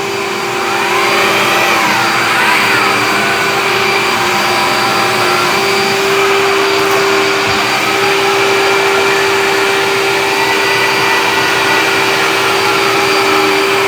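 A power mixer runs continuously while stirring bathroom remodel material on a construction site, a loud steady motor whine with a constant tonal hum, close and unbroken for the whole stretch.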